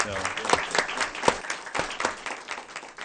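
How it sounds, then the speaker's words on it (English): Audience applause breaks out at a school board meeting, a steady wash of clapping with a few sharper claps standing out, fairly close and filling the room throughout. "Let's give him a round of applause."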